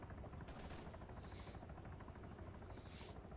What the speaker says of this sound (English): Oh, that's an attack helicopter.